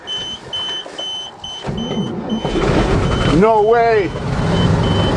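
A 427 gas Chevy dump truck engine cold-starts in January cold, its cranking giving way to a loud running idle, while a reversing beeper chirps in a steady repeating pattern early on; people exclaim in surprise over the engine.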